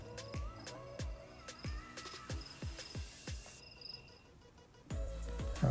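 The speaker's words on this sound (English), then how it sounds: "let's switch it over to forest, hit save, and let's see what that sounds like." Forest sound mode on a HeimVision sunrise alarm clock plays repeated chirping bird calls with insect-like trills in a quick, irregular rhythm, fairly faint and clear, with a louder shift near the end.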